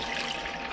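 Hot tap water pours in a steady, close stream into a sugar and cornstarch mixture for a lemon meringue pie filling, brief and continuous with no talking.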